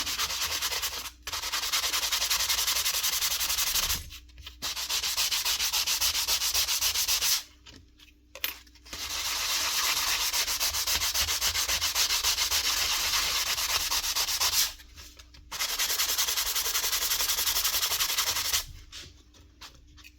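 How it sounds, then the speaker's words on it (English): Steady scratchy strokes of a sanding block on a nail gun part under repair, close and loud, running in long stretches broken by a few short pauses. "the sanding block in, clean it up."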